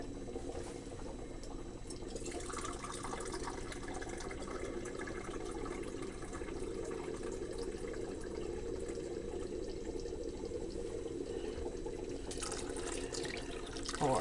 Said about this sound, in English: Now we got all the hot water in there.